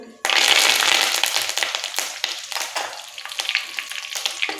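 Bay leaf pieces and curry leaves sizzle loudly in hot oil for a Konkani-style jackfruit seed curry, starting with a sudden burst of frying that settles into a crackling, popping sizzle with stirring.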